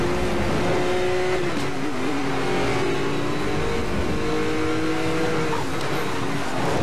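A car engine roars loudly and continuously while drifting in Need for Speed Most Wanted, sustained high revs with shifting pitch and some tire noise, close and dominant throughout.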